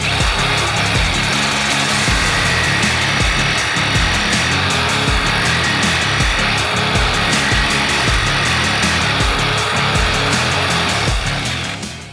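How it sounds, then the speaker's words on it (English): A jigsaw fitted with a metal-cutting blade saws through a thick steel Sprinter van bumper. The rasping buzz is loud, close and continuous for about twelve seconds, then trails off as the cut finishes. "Cut right through it with just the jigsaw."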